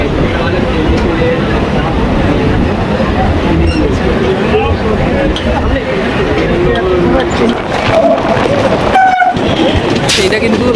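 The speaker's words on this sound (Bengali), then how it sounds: "এটা কিন্তু লালগোলা যাওয়ার মেমু ট্রেন" A MEMU train bound for Lalgola on the Lalgola section rumbles loudly past at close range with steady wheel clatter and a horn blast, while people talk over the noise.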